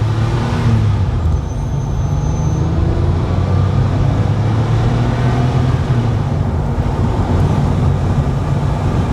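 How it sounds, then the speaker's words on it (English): Porsche 964 America Roadster flat-six engine while driving, a loud steady low drone with road and wind rush, continuous and close throughout. "Hopefully you can pick up a little of that engine noise."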